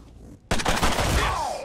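Gunfire in Mutant Year Zero: Road to Eden, a sudden loud burst of several rapid shots ringing out after a moment of quiet.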